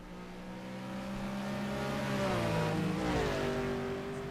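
Race cars lapping the Nordschleife during a 12-hour race: a steady, loud engine drone with clear harmonics that dips in pitch, then climbs again as the cars power out of a corner.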